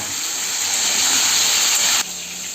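Pointed gourd and half-fried potatoes sizzle steadily in hot oil, a loud continuous hiss that drops suddenly in intensity near the end.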